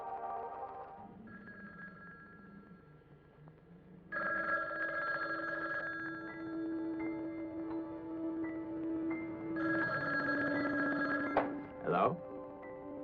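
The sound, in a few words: telephone bell ringing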